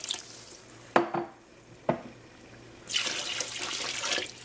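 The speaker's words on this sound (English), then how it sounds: "I'm going to add 8 cups of water to this right now." Water is poured into a beef stew pot of browned onions and garlic. A couple of sharp clunks come first, then a loud, steady rush of pouring liquid up close for the last second and a half.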